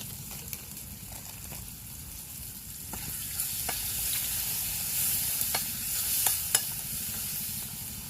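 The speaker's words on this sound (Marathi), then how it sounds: "आता कांदा टोमॅटो मिरच्या तर आता हळद टाकून घेते थोडी" Onion, tomato and green chillies frying with turmeric in a kadhai outdoors by a river in the rain, a constant close sizzle broken by sharp spatula taps and stirring clicks.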